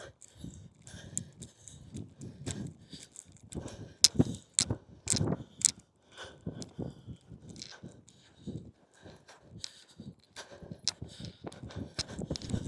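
A horse ridden over poles, stepping and giving a small hop, makes a steady run of hoof thuds and clops at close range, with louder bursts partway through and faint voices mixed in.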